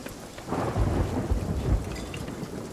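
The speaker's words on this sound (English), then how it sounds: "Because it's raining." Steady rain hisses throughout while low thunder rumbles roll in and swell, loud and close, with no voices.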